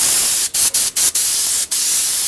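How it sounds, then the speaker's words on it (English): Short bursts of an alcohol-based finish sprayed onto a wooden sign, a loud close hiss broken by several quick gaps between sprays, with no talking. "And you can keep spraying."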